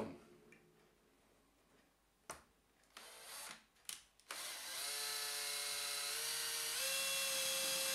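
Power drill boring a hole in a jar lid for a multifuel stove burner, preceded by a few sharp clicks and knocks, then a steady rising whine that holds for several seconds.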